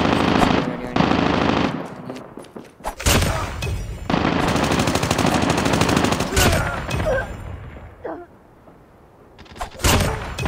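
Sustained automatic rifle fire from an AK-117 in the Call of Duty video game, long loud bursts broken by short pauses, fading near the end before a final burst.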